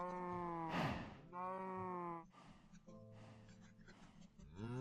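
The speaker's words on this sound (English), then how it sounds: "how could you stay here with all these cow noises?" Cows moo repeatedly in a Minecraft FTB Monster modpack game, several drawn-out, overlapping bovine calls one after another, fairly faint and continuous across the whole stretch with no talk over them.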